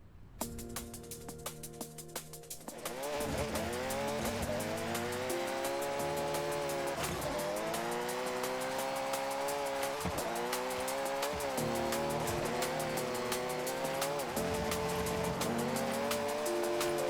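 An AWD C-class car drifts in Forza Horizon, its engine revving as the tires squeal loudly in long, rising and falling sweeps, broken by brief shifts, after a quieter opening few seconds.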